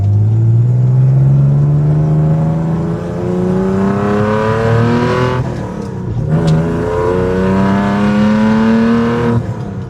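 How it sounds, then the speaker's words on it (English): A 1972 Datsun 240Z accelerating hard through the gears, engine pitch rising steadily, dropping at each shift around five and six seconds, then climbing again; loud, close and continuous with no talk. "But when you drive it, it sounds like an import."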